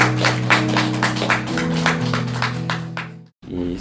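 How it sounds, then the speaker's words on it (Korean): Congregation clapping at a dawn prayer service in a church, a steady wash of applause over sustained organ or keyboard chords, ending abruptly before the music resumes. "우리 하나님께 영광의 박수 올려드리겠습니다"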